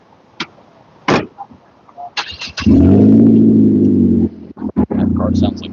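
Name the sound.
passing car with a rough, loud engine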